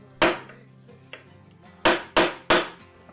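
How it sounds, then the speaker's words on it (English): Four sharp metallic strikes of a hammer on a center punch marking metal, one single blow followed after a pause by three quick ones, loud and close, with a faint tap between. "Use a punch like this and a mallet of some sort or hammer to get the center"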